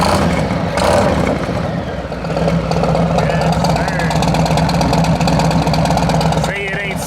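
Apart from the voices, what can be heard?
Harley-Davidson Road Glide with DND exhaust revving and idling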